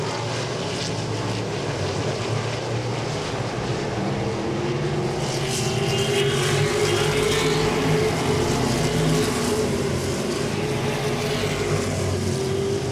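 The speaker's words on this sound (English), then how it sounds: "Two red cars now out front looking good." Modified race cars lapping Langley Speedway produce a steady, loud engine roar from the pack, droning continuously and swelling slightly midway with no break.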